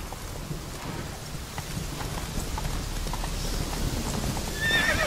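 In The Witcher 3, the horse Roach gallops in steady, close clip-clop hoofbeats through rain, with thunder rumbling underneath and a whinny rising near the end.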